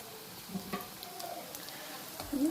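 Jowar oats potato nuggets frying in a pan, a faint, steady sizzle with soft stirring and light scraping at low volume.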